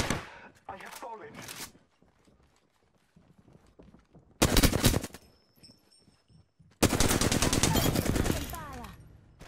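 Rapid automatic gunfire from Apex Legends erupts in two loud, sustained bursts, the second longer and denser, after a quieter stretch where a voice speaks briefly.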